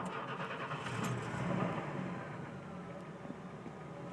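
A four-wheel-drive van engine cranks and starts, then settles into a quiet, steady idle, heard from fairly close with no talk over it.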